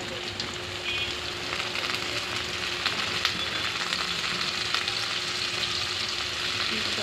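Vegetables frying in a hot pan after onions have browned, a steady close crackling sizzle that holds evenly throughout with no pauses.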